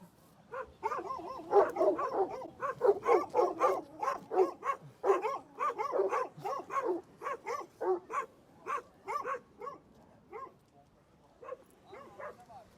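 A dog barks repeatedly in quick bursts, close and loud, the barks thinning out toward the end with short pauses between them.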